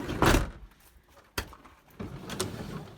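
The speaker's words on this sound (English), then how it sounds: "Shut the door." Camper van door being shut, a loud close thump followed by a sharp clack and a rattling slide-and-latch clunk, heard alone without voices.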